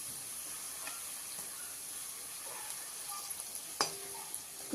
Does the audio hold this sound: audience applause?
no